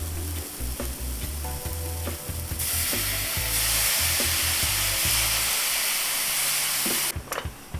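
Beef and broccoli sautéing with soy sauce in a hot pan, a steady loud sizzle with scraping and clattering stir strokes, brightening into a harsher hiss partway through before tapering off near the end.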